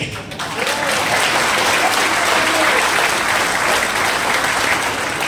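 An audience claps loudly and continuously in a hall, a dense wash of applause building in the first half second and holding steady to the end, with no talking over it.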